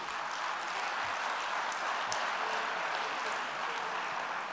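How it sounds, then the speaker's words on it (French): An audience applauds a speech, steady dense clapping from many hands in a hall, moderately faint and without talk over it. "Vous n'avez pas à m'applaudir quand je dis des choses qui vous font plaisir"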